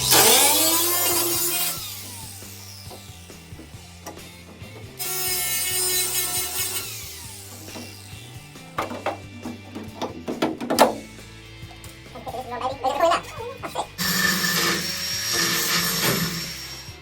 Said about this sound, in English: So we've switched to the Black & Decker from Argos, and I'm just being super careful to only cut the inner skin